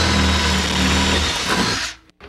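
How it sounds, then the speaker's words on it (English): A power drill bores straight through a door panel, running loud and continuous at close range for about two seconds before cutting off abruptly, with a brief clunk afterward. "just drill right through the panel"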